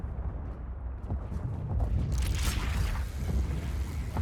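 Gunfire aimed at the player character in a video game, heard as a rough, rumbling volley that thickens into a louder burst midway and continues in the background.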